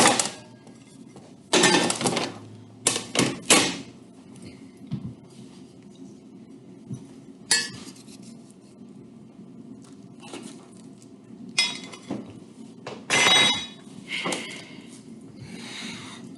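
Metal pan lifted and handled in a home kitchen, a few loud clanks and clattering knocks in separate bursts with quieter rustling between, no talking.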